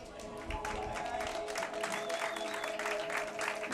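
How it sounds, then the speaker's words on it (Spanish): Audience applause at a minimoto race prize ceremony at the Kotarr speed circuit in Burgos, a steady broadband patter of clapping lasting the whole stretch, with tonal hum and crowd noise beneath and a faint whistle-like tone midway. "Un fuerte aplauso por favor para los dos."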